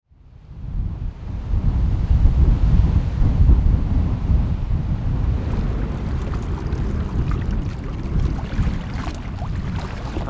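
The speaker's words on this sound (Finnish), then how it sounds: "Aika tuulinen aamu." Strong wind buffets the microphone in a steady, heavy rumble, with gusty surges and a faint wash of lake water in the background, on a windy morning in the Kaldoaivi wilderness.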